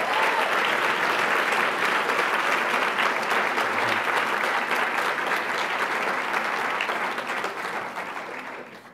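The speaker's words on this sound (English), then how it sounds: "Please join me in a round of applause" Sustained applause from an awards ceremony audience honoring an essay prize winner at a Black Excellence Awards event, a dense steady wash of clapping that holds for several seconds before gradually thinning out at the end.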